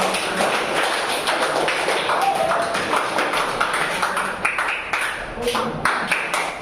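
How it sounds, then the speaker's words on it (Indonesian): Students in a classroom applaud their classmates during a practical exam session, a dense, loud patter of many hands clapping continuously, with voices mixed in beneath the clapping. "tepuk tangan dulu buat teman-teman"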